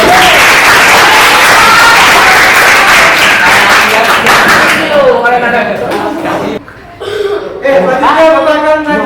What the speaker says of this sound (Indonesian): Berikan tepuk yang meriah untuk yang lain.